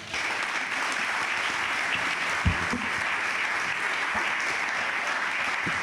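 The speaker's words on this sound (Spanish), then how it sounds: "otro fuerte aplauso y las despedimos" Steady applause from a sizable audience at a conference talk fills the whole stretch, even and sustained without pause.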